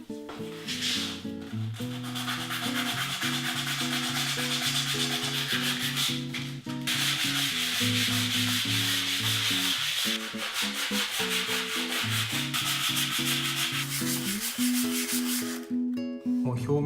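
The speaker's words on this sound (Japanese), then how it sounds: "一度このすでについてるワックスをヤスリで削ぎ落としていきます" Sandpaper is rubbed over wooden furniture to strip off its old wax coating. It makes a continuous rasping scrape throughout, with background music playing over it.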